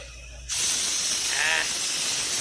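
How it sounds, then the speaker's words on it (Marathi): A pressure cooker cooking khichdi whistles: steam suddenly bursts into a loud, sustained hiss, with a brief whistling warble midway through, continuing steadily to the end. "याला म्हणते गावरान शिट्टी"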